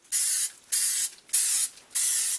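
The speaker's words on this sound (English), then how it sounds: "Take whatever cooking spray you use and go ahead and spray your muffin tins" Cooking spray hisses onto muffin tins in four short, evenly spaced bursts, each a sharp, close spray with brief silence between.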